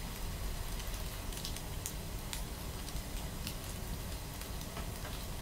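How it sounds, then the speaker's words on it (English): Soft, steady rain patter with scattered small drips and ticks, fairly quiet and even throughout, no voices. "More of a delicate rain sound"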